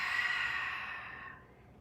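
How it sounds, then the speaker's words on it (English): A long, soft exhale during a guided stretching session, one steady breath out that gradually fades to quiet, close and alone with no talking. "Exhale, breathe out."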